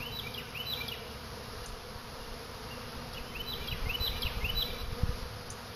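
Steady insect buzzing from many bees around a hive, a dense continuous drone with occasional closer passes, no voices.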